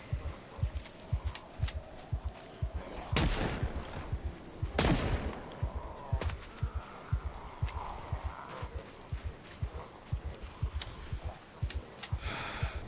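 Gunfire in the zombie survival game Project Zomboid: a long, loud burst of repeated sharp shots, some rapid and some spaced, with a couple of heavier blasts midway, no talk.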